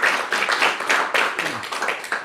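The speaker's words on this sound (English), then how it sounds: "So an applause for Liam." An audience gives artist Liam Ó Broin a short burst of applause at a talk about illustrating Dante. Dense clapping fills the room for a couple of seconds.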